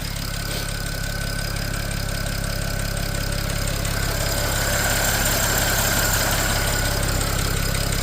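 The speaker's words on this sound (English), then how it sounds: "Those injectors are loud, oh my god." A 2007 BMW 335xi with an aluminum valve cover idles steadily up close, its engine hum overlaid by a loud, rapid ticking from the fuel injectors, with no talking.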